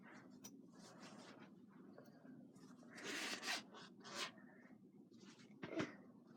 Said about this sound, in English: And then zip the back zipper up.